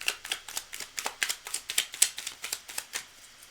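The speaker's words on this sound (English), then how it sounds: "I have to keep shuffling this thing." Tarot cards being shuffled by hand in a rapid, steady run of crisp riffling snaps, close and fairly loud, with no talk over it.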